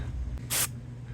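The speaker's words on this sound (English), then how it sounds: "Give it a nice little generous spray there." A single short hiss of contact cleaner sprayed from an aerosol can into a CB radio, about a fifth of a second long, over a low steady background hum.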